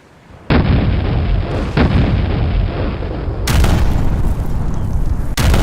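Heavy ship cannon fire from a naval battle in Napoleon Total War, with loud booming broadside blasts at close range, one sharp report opening a sustained roar and further shots following.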